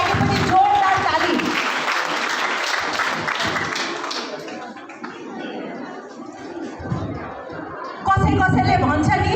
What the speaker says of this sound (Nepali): तपाईँहरूको लागि पनि जोरदार ताली